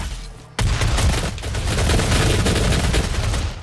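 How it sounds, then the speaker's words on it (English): Chaingun fire in DOOM, a sudden onset of rapid, continuous automatic shots that rattle on without a break for about three seconds, loud and close, after a brief quieter lead-in. "Who wants some of this chain gun?"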